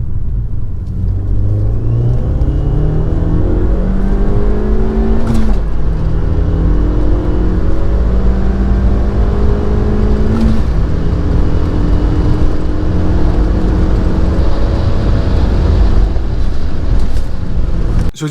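Abarth 500 fitted with a big turbo accelerating hard from 40 to 100 mph, loud in-car engine drone climbing in pitch through several gears, each shift marked by a short break before the revs rise again.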